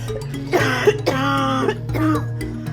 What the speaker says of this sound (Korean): 최근에는 기침도 더 심해졌는데요